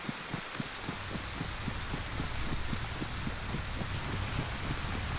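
Rain pours down in the video game DayZ on the Livonia map, a steady dense hiss that fills the whole stretch, with soft regular thuds pacing along underneath.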